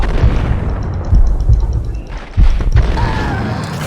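Grenade explosions in the video game Max Payne: a string of heavy booming thuds, the loudest near the middle, over a constant rumble of gunfire and noise.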